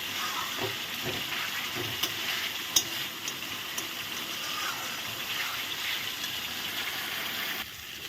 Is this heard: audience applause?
no